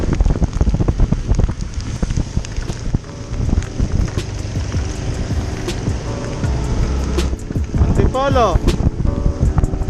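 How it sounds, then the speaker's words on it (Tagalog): Steady rain falling during a motorcycle ride to Antipolo, a continuous broadband hiss with wind rush and engine rumble beneath, loud and close throughout, with a brief rising tone near the end. "Inabot ng ulan."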